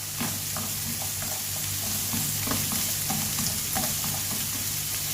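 Fried rice with shrimp paste chili sauce, egg and carrot cooks on low heat in a pan, giving a soft, steady sizzle with frequent stirring scrapes and taps of a spatula, close and without speech.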